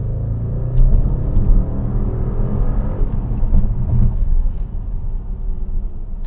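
A 2016 Audi RS7 Prestige accelerating hard on a road: a loud, steady engine roar with deep low rumble, building and holding throughout.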